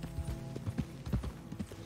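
Horse hooves clip-clop in an irregular run of hollow, knocking beats, several quick strikes close together and moderately near, with no talk over them.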